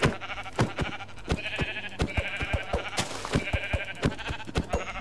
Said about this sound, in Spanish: ¡Mira, mira, la oveja!